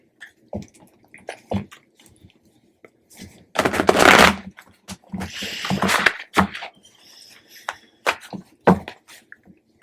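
Tarot cards shuffled in bursts, with dense riffling rushes around the middle and scattered taps and clicks between them, fairly close and without talk.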